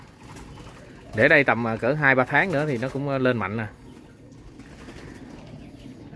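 Pet pigeons or doves, fed on rice bran, coo in several rolling phrases close by, alongside a person speaking.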